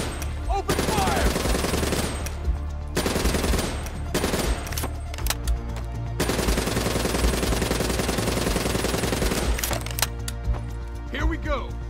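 Machine gun fire in Call of Duty: Black Ops III comes as loud, dense automatic bursts separated by short pauses, with voices heard at points in between.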